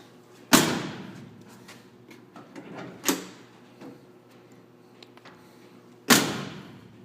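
A 1964 Ford F100 pickup cab door is shut three times with loud, close metallic slams, each followed by a brief rattle and ring-out, with quieter handling clicks between them and no talking.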